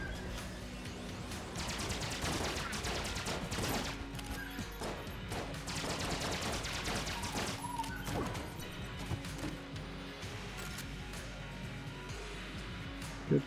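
The rage rifle in a heavily modded Enter the Gungeon keeps firing in a dense, crashing barrage, mixed with impacts and smashing hits, moderately loud, with only brief speech at most.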